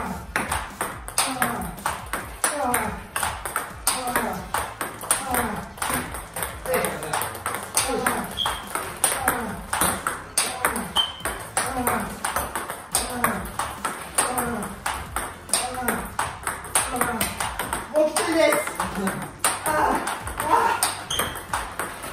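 A long, steady table tennis rally of forehand and backhand long balls, with sharp celluloid pings of ball on paddle and table repeating in an even rhythm, some voices faintly underneath.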